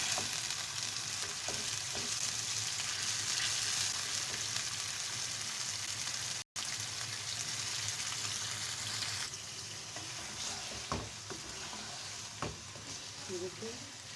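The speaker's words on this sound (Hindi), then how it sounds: "मटन को हमने इतना भूनना है कि इसका कलर चेंज हो जाए, ब्राउन कलर हो जाए" Mutton pieces frying and sizzling in a pan, browning as their moisture cooks off, with a steady close crackle, occasional stirring clatters and a brief break midway.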